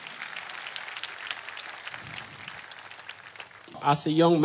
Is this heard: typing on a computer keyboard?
no